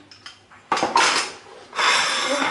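Knife cutting through a fluffy sponge cake topped with chocolate, with a couple of sharp clinks and scraping strokes against a plate or pan, close and fairly loud, no talk.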